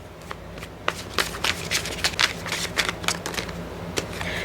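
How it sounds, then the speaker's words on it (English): Tarot deck being shuffled by hand, a quick run of crisp riffling card flicks and slaps, close and fairly loud, with a few cards spilling loose from the deck. "Oh, we've got a couple too many cards jumping out."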